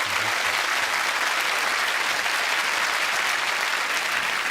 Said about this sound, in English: Oh, that deserves a round of applause.